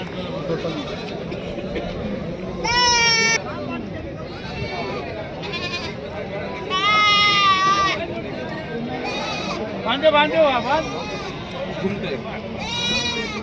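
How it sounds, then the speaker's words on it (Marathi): Goats, sheep and lambs bleat again and again over a steady hum of crowd chatter at the busy Saturday goat market in Chakan. "शेळ्या मेंढ्या कोकरं वगैरे सगळं राहतं"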